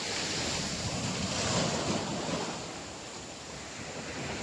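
Waves break and rush up the shore in a steady, rolling wash, rising briefly then settling, mixed with gusty wind noise on the microphone; no one speaks.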